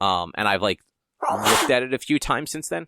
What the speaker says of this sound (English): Bless you, whoever sneezed